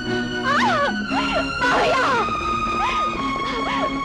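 An ambulance siren wails in a film scene, its rising and falling tones sweeping repeatedly and loudly over a low background rumble.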